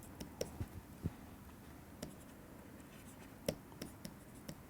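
Chalk on a lecture-hall blackboard: faint, scattered taps and short scratches at an irregular pace against a quiet room, no talking.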